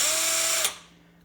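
A Ryobi cordless SDS hammer drill whines at a steady high pitch up close, then cuts off abruptly and spins down into quiet.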